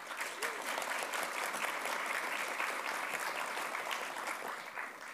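An audience claps steadily in a continuous round of applause that welcomes two speakers at a panel event, holding fairly even before fading slightly at the end.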